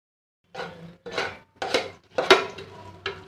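A spoon or spatula scrapes and knocks through a mashed potato mixture with fried onion and mozzarella cheese in a pan, five distinct rhythmic strokes, close and fairly quiet, with no voices.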